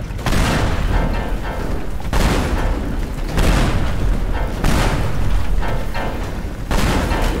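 Repeated heavy explosions from the demolition game Teardown as a large tower is blown apart. About five loud, booming blasts come in a steady sequence, each leaving a rumbling, crackling tail of debris.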